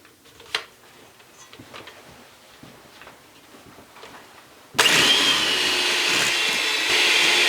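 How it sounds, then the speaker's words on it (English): Electric hand mixer whirring steadily as it blends cream cheese icing for an Easter bunny cake, switching on loudly partway through after quieter kitchen handling sounds and continuing without pause. "And we're just going to take our mixer and blend this up."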